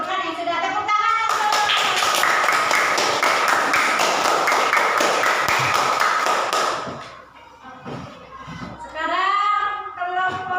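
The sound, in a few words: children clapping hands in a classroom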